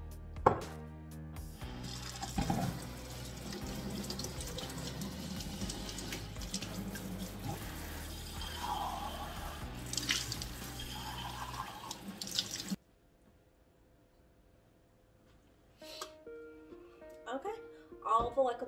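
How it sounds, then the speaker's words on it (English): Water from a tap runs and splashes over plants on a shelf while they are rinsed, a continuous close rush of water that stops abruptly, followed by quiet and a few faint clinks. "Plants on my shelf have had a good rinse,"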